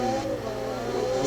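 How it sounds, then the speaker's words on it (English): A 2008 BMW M3 drift build in Forza Horizon 2 spins its tires as the engine revs, giving a brief, loud, steady engine roar without speech. "perfect timing to start spinning some tires"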